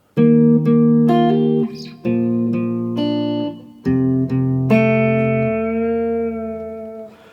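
A clean guitar intro played fingerstyle: bright plucked notes and chords ring out in short phrases, ending on a long sustained chord, with no voices.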